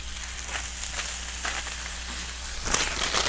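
Bacon sizzles low and slow on a Backwoods grill griddle, a steady soft crackle and hiss with occasional louder pops, no talking.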